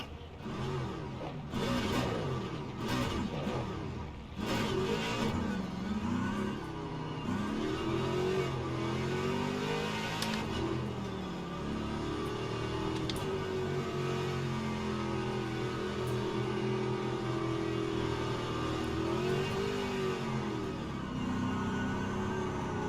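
A Ford Mustang GT3 race car engine drones and revs through a formation lap at Monza in Le Mans Ultimate, rising and falling in pitch at a moderate, steady level, with a few sharp clicks near the start.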